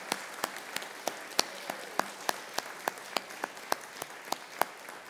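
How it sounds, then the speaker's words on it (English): A church congregation at Suffolk Christian Church claps in welcome, sparse and quiet, with distinct individual claps landing in a loose, roughly regular rhythm rather than a full roar. "would each one of you give Amy some applause to welcome her to this church?"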